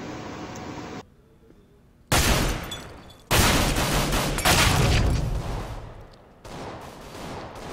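A Nova shotgun fires in Counter-Strike: Global Offensive, with loud, close blasts that boom out in heavy bursts and break into a quiet gap between shots.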